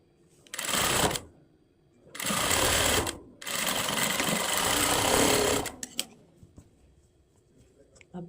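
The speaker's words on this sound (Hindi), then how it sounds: "इस पर एक किनारे की सिलाई लगाएंगे" Sewing machine stitching a blouse hook strip, three loud bursts of rapid mechanical stitching separated by short pauses, followed by faint clicks and handling noises.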